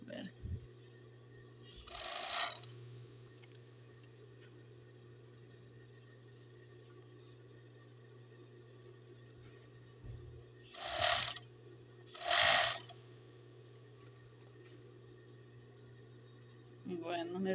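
Serger sewing machine stitching while hemming jeans: short bursts of rapid whirring, one early and two close together later, over a steady low hum in a quiet room.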